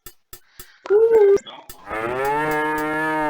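A bull in the King's Quest 5 adventure game gives a loud, drawn-out moo after a few sharp clicks, with a shorter bovine call just before it.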